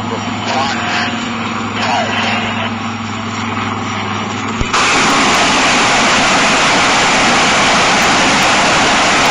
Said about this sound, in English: This is the rockets being fired through the IDS